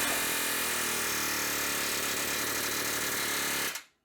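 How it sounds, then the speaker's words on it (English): A pneumatic air hammer rattles in a loud, rapid, continuous burst for several seconds, knocking cut pieces off a Jeep Wrangler YJ, then stops abruptly. "now maybe I can air hammer these pieces off"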